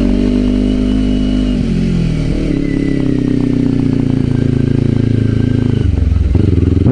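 Close and loud, a Kawasaki Ninja 250 engine drones as the bike climbs a steep mountain road, its pitch holding and rising through the pull, then dipping near the end as the throttle changes.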